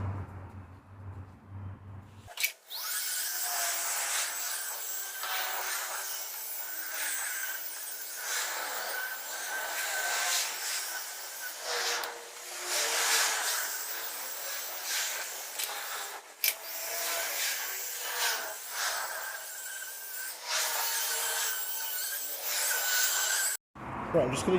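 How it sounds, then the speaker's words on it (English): A car buffer polishes the paint on a Saab 900 Turbo, a steady whirring drone with swelling rubbing passes as the pad rides over the panel, running continuously after a brief quiet start. "you just let the weight of the buffer just ride along and gently polish the paint up"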